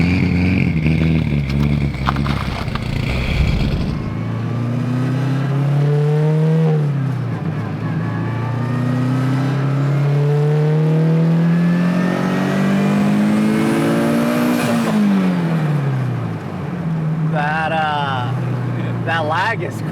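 A turbocharged, carbureted Toyota Corolla accelerates hard, its engine tone climbing through gears with rising revs and brief drops at each shift, loud and close throughout, with people talking over it.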